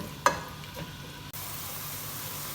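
Two medium chopped onions fry in a pan for chicken curry, giving a steady oil hiss that follows a brief sharp clatter near the start and a fainter knock, then carries on evenly.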